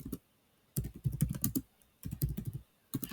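Quick bursts of keystrokes on a computer keyboard, three clustered runs of crisp taps separated by short pauses, close and fairly quiet.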